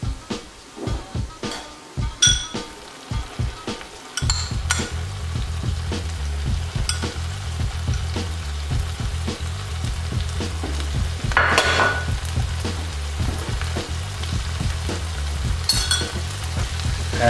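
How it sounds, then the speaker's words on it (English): Salmon sizzles and fries in a pan with a yogurt and fenugreek leaf mixture, with steady loud frying and occasional stirring and utensil scrapes; the first few seconds are choppier before the sizzle settles into a continuous hiss. "Now I'm going to take my yogurt and fenugreek leaf mixture over to the stove and reintroduce it to the salmon"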